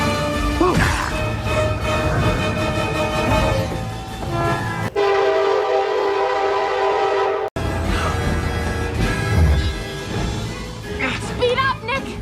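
An SD70MAC locomotive with a K5LA horn passes in an animated subway crash scene. The loud chord horn blasts repeatedly over rumbling, clattering rail noise and busy soundtrack effects, with a brief cut partway through.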